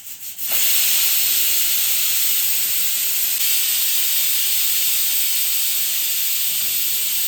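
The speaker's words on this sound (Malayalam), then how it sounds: "അപ്പോൾ 3 വിസിൽ വന്നതിന് ശേഷം ഞാൻ കുക്കർ ഓഫാക്കി കൊടുത്തിട്ടുണ്ട് കേട്ടോ" Pressure cooker on a stove letting off steam while sambar cooks, a loud continuous hiss starting abruptly after half a second and holding steady to the end, with no talking.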